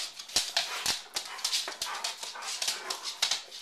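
A dog in a household of bullmastiffs and an English bulldog lets out a rapid string of short yips and barks, close and fairly loud, with no talking.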